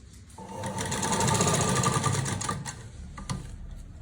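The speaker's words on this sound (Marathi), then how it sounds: "ह्याच्यावरून एक टीप मारून घेऊयात, म्हणजे फिनिशिंग येईल छान पैकी" Sewing machine running a quick burst of stitches on a scrap of fabric, a fast rhythmic whirring chatter lasting about two seconds, then slowing with a few clicks, close up and alone.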